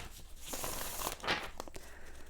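Tarot cards being shuffled by hand, a papery rustling and riffling with a brief louder crinkling burst midway, close and fairly quiet, with no talk.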